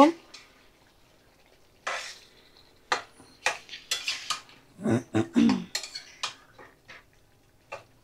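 Fried small new potatoes get stirred in a pan, with scattered sharp clinks and scrapes of a spoon against metal at irregular intervals, fairly close, separated by quiet gaps.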